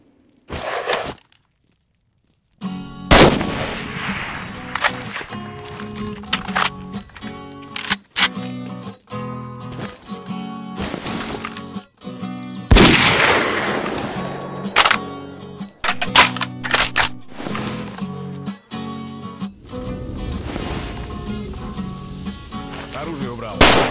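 Gunfire from a modded weapon pack in S.T.A.L.K.E.R.: sharp, loud shots ring out in irregular bursts and single cracks over roughly twenty-four seconds, with brief pauses between volleys and a steady game ambience underneath.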